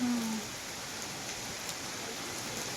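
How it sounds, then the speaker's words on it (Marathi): Heavy monsoon rain pours down in a dense, unbroken hiss, steady and close all around, with no voices over it. "लय मस्त पाऊस झाला"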